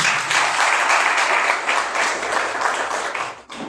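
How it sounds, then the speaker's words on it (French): Sustained applause from a church congregation, dense steady clapping that continues for several seconds before tapering slightly. "Laisse-moi applaudir nous-mêmes ce matin."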